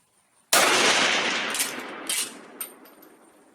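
A single loud Swiss K-31 rifle shot fired with GP11 surplus ammunition at an outdoor range, a sharp crack followed by a long rolling echo that fades over several seconds, with faint distant reports afterward.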